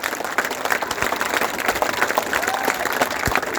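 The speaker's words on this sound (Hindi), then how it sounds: "एक बार जोरदार ताली आप दोनों हाथ उठा करके बजाएं" Loud, sustained clapping from a large crowd at a rally for the OPS pension demand, with dense overlapping claps filling the whole stretch at close range.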